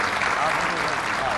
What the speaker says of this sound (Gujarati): જોરદાર તાળીના ગળાથી અમને વધાવો.